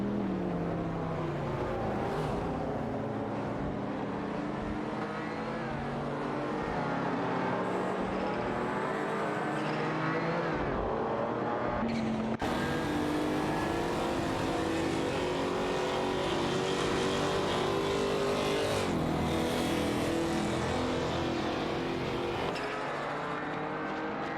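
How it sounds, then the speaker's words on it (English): Race cars in the Assetto Corsa video game, including a Mercedes-Benz and a Ferrari 512 TR, roar continuously with engines revving and shifting, loud and dense, with several cars overlapping. "Assetto Corsa in the Mercedes-Benz L500 and Suzanne Greenberg are doing it out with Tanker and Sierra in the Ferrari 512 TR for the 16th spot."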